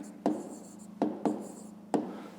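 A pen writes an answer by hand on paper, four short faint scratchy strokes over a quiet room hum.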